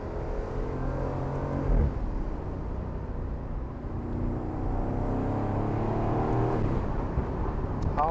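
An Aston Martin Vantage F1 Edition safety car accelerating hard through a tight turn, its engine note rising steadily with a gear change partway through, loud and close from inside the cabin, with no talking.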